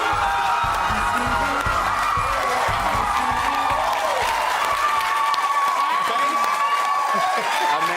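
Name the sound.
audience applauding and cheering for a band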